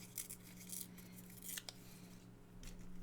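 Scissors snip through paper in a few quick, close cuts during a pink-themed February planner setup, crisp bursts over a quiet room with a faint steady hum underneath.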